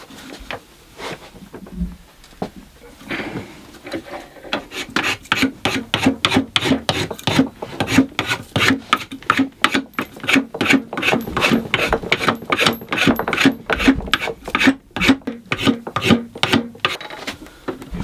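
A spokeshave shaves down wood on an old hammer being made into an adze, producing a fast rhythmic series of rasping strokes, loud and close, that builds after a few quieter scrapes and continues steadily.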